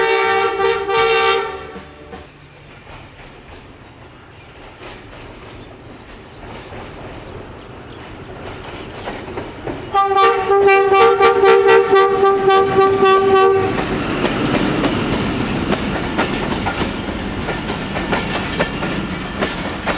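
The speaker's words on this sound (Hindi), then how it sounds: "सामने से आ रही है जी पाकिस्तान रेलवेज़ की नई नवेली ट्रेन" A Pakistan Railways Jaffar Express train arriving at a station, loud horn blasts at the start and again midway over a steady rumbling, clattering roll of the diesel locomotive and cars passing close by.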